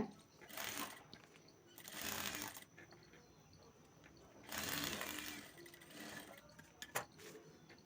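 A sewing machine stitches fabric for a bag made from a leftover blouse piece, running in short, fairly faint mechanical bursts separated by pauses.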